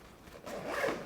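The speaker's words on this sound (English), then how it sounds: "Get the zipper," A zipper on a PGYTECH OnePro camera backpack is pulled open in one short, close, steady rasp lasting about a second.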